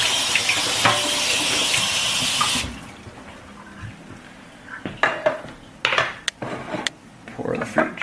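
Running tap water rinses the strainer of an Omega VRT400 vertical slow juicer, a steady hiss for a few seconds, followed by clinks and knocks of plastic parts being handled, with a person talking.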